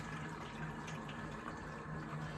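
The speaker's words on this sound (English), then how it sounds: "I'm gonna fill the kettle with some water and put it to the boil." Water runs steadily from a tap into a kettle, a soft, even rushing close by with no pauses, filling for a floor wash.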